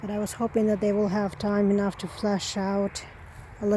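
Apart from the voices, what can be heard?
No everyday noises stand out.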